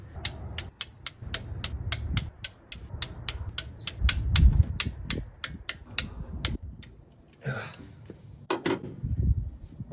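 A 3/8-drive torque wrench set to 25 foot-pounds tightens intake manifold bolts on a 351 Windsor engine in a 1996 Ford F250, giving a rapid series of sharp ratcheting clicks, close up, with a brief pause partway.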